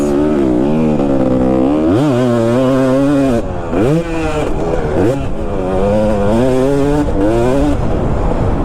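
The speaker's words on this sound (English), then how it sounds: "Dude, you hardly have to rev this bike at all. This thing rips." A two-stroke dirt bike engine revs hard and close, its raspy buzzing pitch climbing and dropping in repeated bursts of throttle, loud and alone without voices.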